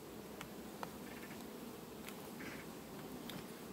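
Honeybees hum at an open hive in August as a soft, dense, continuous buzz, with a few brief higher-pitched passes from nearby bees over the steady drone.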